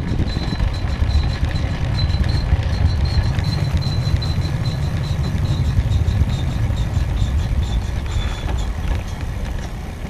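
A car driving along a back road near Verona, Ontario gives off a steady, loud rumble of road and wind noise that runs unbroken throughout, with no voices.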